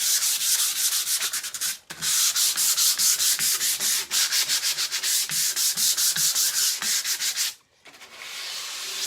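Painted surface being sanded smooth by hand, steady rhythmic scraping strokes close up and loud, with two brief pauses between passes and no talk.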